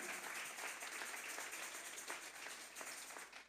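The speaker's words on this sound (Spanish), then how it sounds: "Vamos a regalarle ofrenda de palmas al Dios de la gloria" A church congregation gives a sustained, dense round of applause, faint and distant-sounding, with no clear voices above it.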